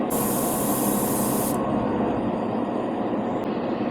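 An airbrush running on a mini compressor sprays rubber black paint onto bare plastic with a steady, loud hiss that cuts off partway through, leaving the compressor's constant hum.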